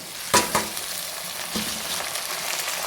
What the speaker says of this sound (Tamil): தக்காளி சேர்த்து நல்லா சுருண்டி வர அளவுக்கு வதக்கிக்கலாம்